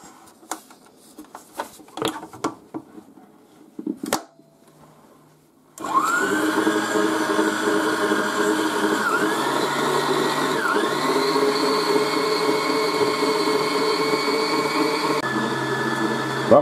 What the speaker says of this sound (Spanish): las yemas, la echamos en la batidora